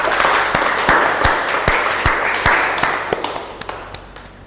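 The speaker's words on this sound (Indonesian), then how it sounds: "Sekali lagi tepuk tangan buat kita semua" An audience at a parenting class breaks into sustained applause, a dense wash of many hands clapping with a few sharper close claps standing out, fading slightly toward the end.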